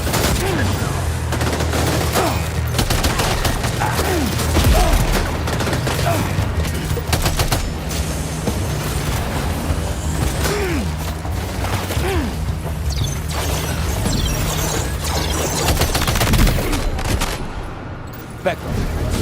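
Sustained gunfire from the video game Death Stranding 2, dense bursts and rapid shots with mechanical clatter under loud game action, with a voice talking over it.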